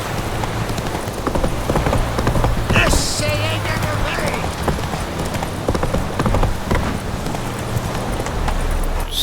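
Roach, Geralt's horse in The Witcher 3, gallops with loud, rapid, rhythmic hoofbeats that pound on continuously, broken briefly by a sharp clanking burst partway through.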